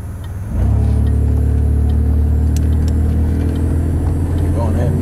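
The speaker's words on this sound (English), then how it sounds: "This car does not have cruise control at all, and it's driving on its own." A Chevrolet Camaro with a suspected gas pedal malfunction drives itself without cruise control, its engine rising to a loud, steady, close-up drone after a brief quieter start and holding on for several seconds.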